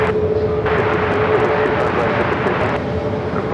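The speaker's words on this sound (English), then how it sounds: "Dallas Love Field in the 737-700. She was a south side arrival on 25 left." A Boeing 737-700 arriving on runway 25 left gives a loud, continuous engine roar with a steady high whine, close by and filling the whole stretch.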